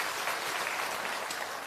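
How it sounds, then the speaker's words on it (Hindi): An outdoor village crowd at a political gathering applauds steadily, a dense, even wash of clapping lasting throughout without any speech. "एक बार जोरदार ताली बजाइए आदरणीय प्रसाद जी के।"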